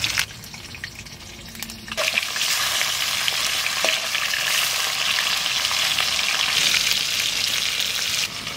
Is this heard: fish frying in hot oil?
yes